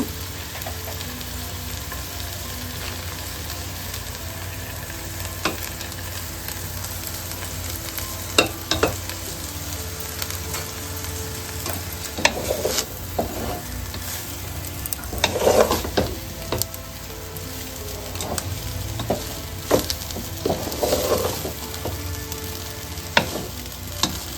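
Vegetable fried rice made without onion or garlic cooks in a pan over a low flame. A soft, steady sizzle runs throughout, with bursts of spatula stirring and scraping at intervals, and no voices.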